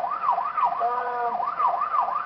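A wailing ambulance siren at a bus hostage scene where tear gas was fired, rising and falling in a steady repeating sweep, loud and close with no voices over it.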